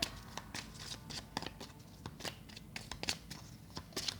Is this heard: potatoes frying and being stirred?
no